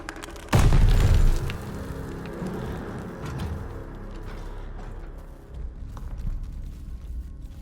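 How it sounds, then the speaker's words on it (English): Grenade blast in the Call of Duty Vanguard video game: one loud, deep boom at the start that rolls off into a long rumbling tail, with battle noise continuing underneath. "Grenade! Get down!"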